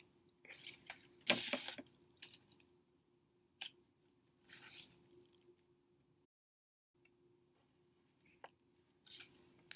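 Scissors cut out a paper leg shape for a slinky lizard craft, giving a few crisp snipping bursts spaced apart between quiet pauses, close and fairly soft over a faint steady hum.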